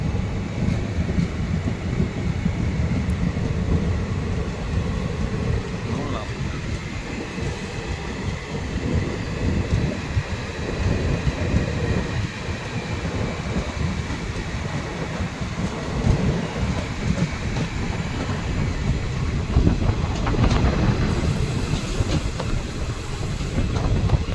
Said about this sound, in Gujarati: આપણી ટ્રેન પણ રવાના થઈ ગઈ છે